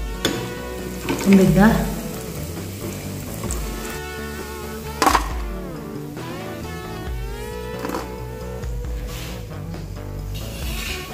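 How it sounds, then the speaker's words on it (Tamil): Steady sizzling and frying of boiled beetroot added to sautéed onion and tomato in a pan, with occasional stirring scrapes and a background hum of music throughout. "இப்போ வெங்காயம் தக்காளி நல்லா வதங்கின பிறகு வேக வச்சிருக்கிற பீட்ரூட்டை போட்டுடணும்."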